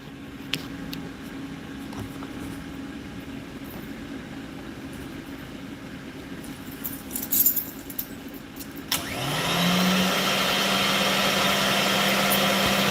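A floor scrubber starts up after quiet background clatter and ends in a loud steady whir as its rotating brush spins up to speed.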